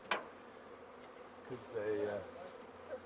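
Honey bees buzz around a hive with top ventilation and candy boards, faint whining drones rising and fading in short passes, with someone briefly speaking over them.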